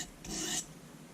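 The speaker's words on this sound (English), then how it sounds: "So now we're moving the burr over to the other side." Paring knife being sharpened to move the burr, a short rasping scrape of steel against the sharpener, one stroke of about a third of a second, close and fairly quiet.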